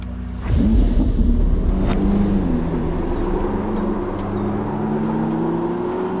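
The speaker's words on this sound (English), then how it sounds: "Definitely 8 cylinders in there. It sounds very raw, very purposeful, got a really nice resonance to it." A Ferrari 849 Testarossa twin-turbo V8 engine starts with a sharp bark, then settles into a deep, resonant rumbling idle with a slowly rising pitch, close and loud.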